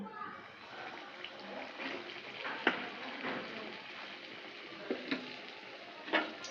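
Stuffed dough balls are lowered one at a time into hot oil over a low-to-medium flame for a street-food snack, giving a steady close frying hiss broken by a few sharp pops and clinks.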